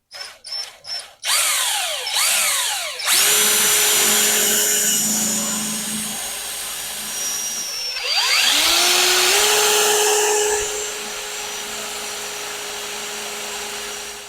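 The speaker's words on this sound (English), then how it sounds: "I'm going to drill it out" A power drill boring a 7/16-inch hole in a 2023 Kioti RX7320 tractor, starting with a few short bursts, then two sustained high-pitched runs with a pause between, loud and close with no talking.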